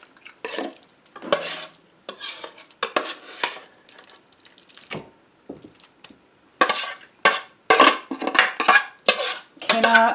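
Shepherd's pie filling scraped and spooned from one pan into another, with a utensil clattering and scraping against metal in uneven bursts, growing louder and busier toward the end; no talking.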